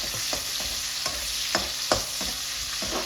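Onions frying in hot oil, with a steady loud sizzle close by and regular scraping strokes of a spoon stirring the pan, no voices.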